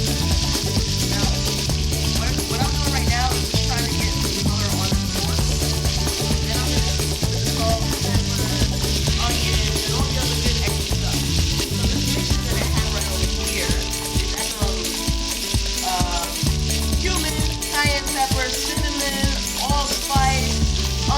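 Pork searing in a hot pan, a steady loud sizzle and crackle of frying meat running continuously, with occasional stirring clinks and scrapes.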